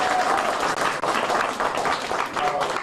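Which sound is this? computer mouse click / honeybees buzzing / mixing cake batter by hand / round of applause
round of applause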